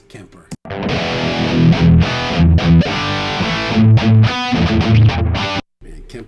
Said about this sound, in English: Man, Kemper sounds great to me.